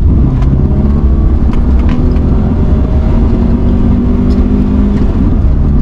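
A very light car's engine pulls hard while accelerating in gear, a loud steady droning hum with a slowly shifting pitch that holds throughout, close and without speech.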